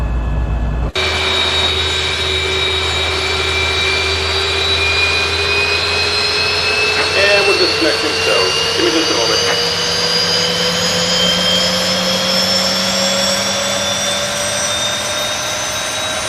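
A Boeing 737 jet engine spools up in a flight simulator, a steady whine climbing gradually in pitch over a low rumble, loud and continuous, with a brief voice speaking partway through.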